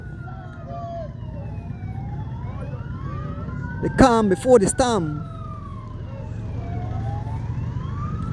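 An emergency siren wails steadily during a motorbike cross-country race on Freetown Road, its rising and falling tone running under low engine drone, while someone briefly speaks loudly over it midway.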